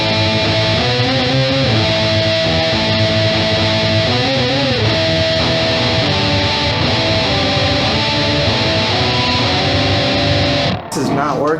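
Electric guitar played through distortion into a Stritch OCTPUS octave pedal, a loud, dense, messy wall of sustained chords with shifting overtones for about eleven seconds, then a sudden cut near the end.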